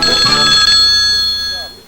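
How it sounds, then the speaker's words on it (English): Telephone ringing in a 1979 TV commercial: a bright electronic ring with steady high tones, loud and near, fading out toward the end, mixed with a brief musical or voice element early on. "Pick up your phone and give them a ring."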